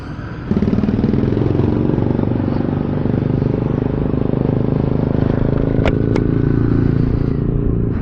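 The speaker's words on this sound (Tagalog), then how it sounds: "Gamit natin itong Vespa." A Vespa Primavera S 150 scooter rides along in hot weather, its small engine droning steadily and close up for the whole stretch, with a couple of brief high clicks midway.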